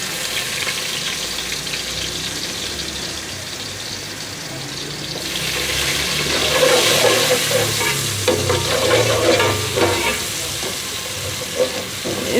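Garam masala and garlic paste frying and being stirred in a pan, a steady close sizzle with scraping stir strokes that grow busier midway, no speech.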